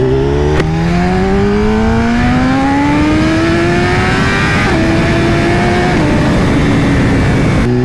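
A BMW S1000RR motorcycle fitted with an Akrapovic exhaust revs loud and close, its engine note climbing steadily through a long pull, then dipping briefly before rising again.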